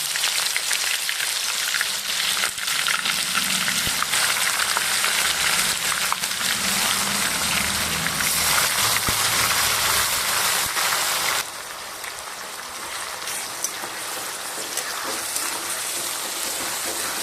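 Onion paste frying with bay leaf and garam masala for a chicken curry, a dense continuous sizzle like heavy rain that drops slightly in level partway through.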